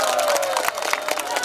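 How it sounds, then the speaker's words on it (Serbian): Parents in an audience applaud performing children, a burst of dense clapping with scattered cheering from a crowd, moderately loud and continuous through the brief moment. "da čujemo jedan aplauz za naše drugare"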